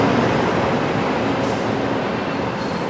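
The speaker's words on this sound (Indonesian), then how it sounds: "Guys, keretanya datang guys." A CC 201 diesel locomotive hauling the Pariaman Express pulls into a station in Padang. Its loud, steady rumble and rolling noise fill the scene without a break, close by, and no one speaks.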